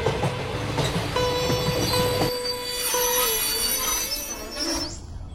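A passenger train pulls away, its wheels grinding along the rails under a high metallic squeal with sustained ringing tones that waver and shift pitch, fairly close and filling the scene before fading near the end.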